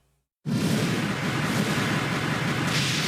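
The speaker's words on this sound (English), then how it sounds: "Charizard, use flamethrower!" Charizard's Flamethrower attack in a Pokemon video game bursts in abruptly after a brief silence, becoming a loud, continuous roaring rush of fire that holds steady to the end.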